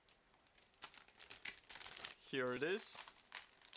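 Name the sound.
plastic bag of model kit parts crinkling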